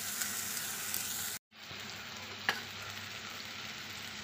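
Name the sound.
spice masala frying with yogurt in a pan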